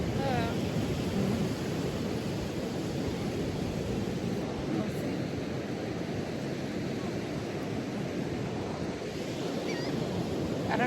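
Wind and ocean waves at a beach in Charleston, with a constant rush of surf and gusty wind buffeting the microphone, fairly faint and steady throughout.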